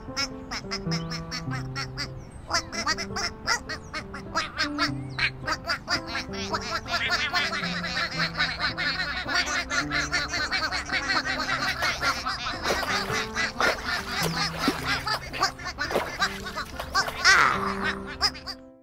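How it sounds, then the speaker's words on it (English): Cartoon ducklings in the Endless Numbers kids' counting app game quack and squeak in quick playful bursts over a bright, steady electronic music bed, close and continuous. "Big Blue made sure that all 12 ducklings found the pond."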